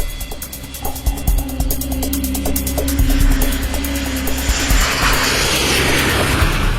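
A Boeing 747 airliner, Korean Air flight 007, flies toward Sakhalin with a loud, steady jet engine roar that builds into a broad rushing wash, with rhythmic flutter and scattered thumps early on.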